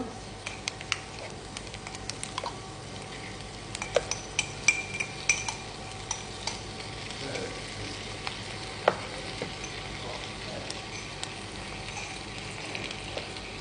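Onion and stewed tinned meat fry in a pan, a low steady sizzle dotted with sharp clicks and taps of a utensil against the pan, with faint talk in the background.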